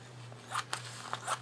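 A few short, crisp snips of scissors cutting, spaced irregularly over a low steady hum, close and fairly quiet.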